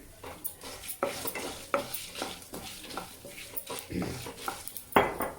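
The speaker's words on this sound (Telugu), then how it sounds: "కొద్దిగా ధనియాలు కూడా కొంచెం వేయించుకున్న తర్వాత చూడండి ఒక్క స్పూను జీలకర్ర వేసుకోండి" Coriander and cumin seeds dry roast in a pan for idli powder, with repeated spoon scrapes and light metallic clinks against the pan over a faint crackle, close and moderately quiet.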